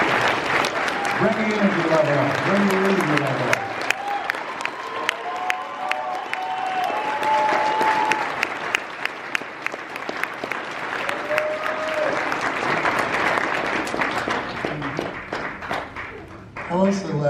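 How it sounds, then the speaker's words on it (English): Seminar audience in Los Angeles breaks into sustained loud applause and cheering that fills the whole stretch, while an amplified speaker talks over it and repeatedly urges the crowd on. "Give yourselves a round of applause."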